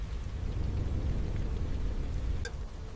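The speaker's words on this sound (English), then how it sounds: "Then the first rain arrives, and the peaceful savanna changes within moments." First rain of a storm sweeping over the savanna, a dense, steady rushing hiss with a deep rumbling undertone that holds at an even level throughout.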